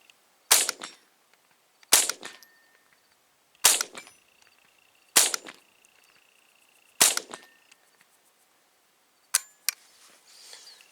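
A Savage 64 Takedown rifle fires at a steel plate target outdoors in the desert, six sharp shots spaced a second or two apart, each a loud crack with a quick decay and faint ring afterward.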